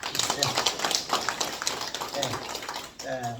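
An audience at a farming lecture on kiwi and tangerine cultivation bursts into dense, steady applause that carries on for a few seconds before tapering off as a voice begins to speak.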